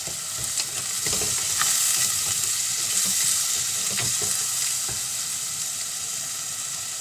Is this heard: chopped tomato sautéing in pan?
yes